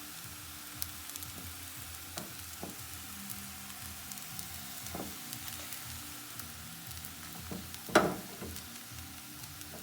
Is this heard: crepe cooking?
yes